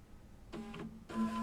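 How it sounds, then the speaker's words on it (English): A label printer prints barcode labels indoors in two short mechanical bursts of whirring feed, the second slightly louder, with a quiet pause between them. "It's going to print over here on my printer."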